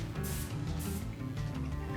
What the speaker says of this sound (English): this blue color that I'm spraying is splattering at the edges